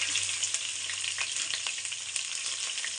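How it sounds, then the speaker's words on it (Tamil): Cabbage and garlic fry steadily in a hot pan for vegetable noodles, a dense continuous sizzle with occasional stirring scrapes, close and even, no voices. "பூண்டு ஃப்ரையான கேபேஜ் போட்டுருக்கேன்."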